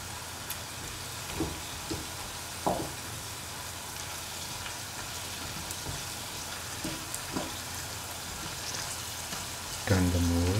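Taro root pieces sizzle steadily in hot oil for a chili taro dish, a continuous frying hiss with scattered pops and brief stirring clatter, growing louder and busier near the end.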